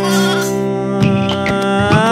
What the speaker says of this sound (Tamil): மல்லி ஓட ஆட்டுக்குட்டி நீல வள்ளி மே ம